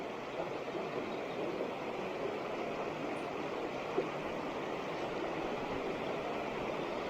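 Steady broadband rush of river water pouring over a waterfall on the River Tees, constant and unbroken, moderately distant, with no voices.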